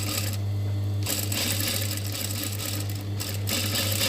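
Sewing machine stitching fabric for a homemade bag, a close, steady mechanical whir with rapid needle clatter, briefly pausing a couple of times before running on.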